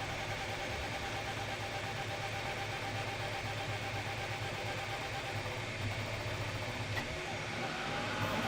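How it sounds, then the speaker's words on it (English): A Qidi X-Plus 4 3D printer's auxiliary fan runs as a steady, close mechanical hum and whir with a low drone, holding even and continuous throughout with no talking. "Aux fan just kicked on."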